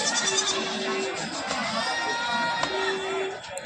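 Goats bleating amid a bustling crowd at the Jaswant Nagar goat market in Uttar Pradesh, with a couple of drawn-out bleats standing out over steady background chatter and market noise.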